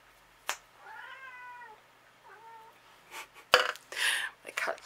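A pet cat gives two drawn-out meows close to the microphone, followed by rustling and handling noises from someone working on a paper craft project indoors.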